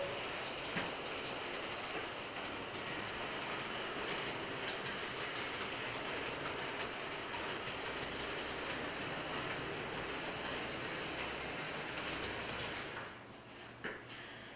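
Model railroad train running steadily on a layout during an operating session, a continuous rolling rumble and rail clatter at moderate distance that fades and shifts near the end.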